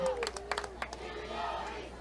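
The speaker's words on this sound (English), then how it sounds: "The fans here are just cheering anything at this point" Football crowd in the stands at a high school game between Eastmont and Eisenhower, cheering in a sustained distant roar with scattered shouts and claps, mixed with a few bursts of nearby talk.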